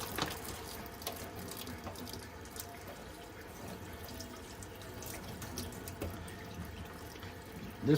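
Raw chicken being rinsed under a running kitchen tap, a steady, continuous water rush with small splashes, close and moderately loud, no talking.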